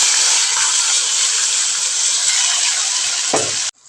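Ground raw masala paste with chicken keema sautés in a hot pan, giving a loud, continuous, close sizzle that cuts off abruptly near the end, with a brief stir just before the stop.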